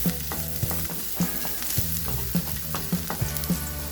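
Garlic sautés in a pan with a steady sizzle, broken by regular scraping strokes as it is stirred, close and moderately loud with no voices.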